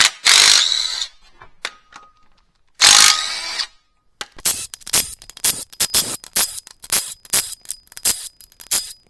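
A ratchet clicks loose the cam cover bolts on a Toyota Prius engine, with two longer bursts of rapid ratcheting followed by a dense run of sharp, close clicks and clacks.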